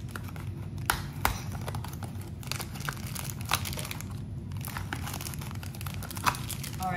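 Disney mystery pin packaging being opened, with crinkling plastic and foil, tearing and small clicks in an irregular close stream of rustles, with no talk.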